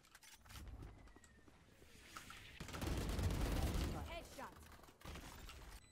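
Gunfire in the Valorant shooter game: a few sharp bursts of shots followed by a longer rolling volley in the middle, with a final crack near the end, over quiet game ambience.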